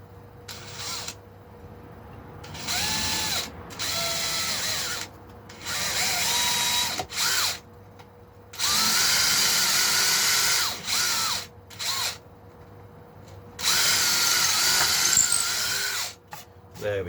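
Power drill boring a hole through a late-1960s-style Stratocaster guitar body into the control cavity, in several sustained whining bursts separated by pauses, close and fairly loud, with someone talking briefly between bursts.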